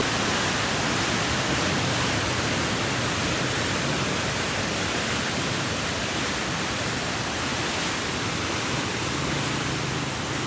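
Water rushing through the opened barrage gates of a river headworks, a loud, constant broadband roar that fills the whole stretch without a break.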